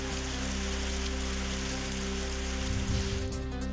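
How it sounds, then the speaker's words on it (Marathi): Unseasonal May rain in rural Maharashtra, falling as a steady, dense hiss of drops on surfaces that stays constant throughout, with no voices. "अवकाळी पावसाची जोरदार हजेरी"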